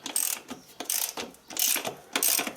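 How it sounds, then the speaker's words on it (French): A hand wrench ratchets on a motorcycle's rear axle nut during a rear drum brake job, giving four quick bursts of metallic clicking close by, with short pauses between them and no talking. "L'axe, il ne bouge pas de l'autre côté, donc tu vois, tu desserres."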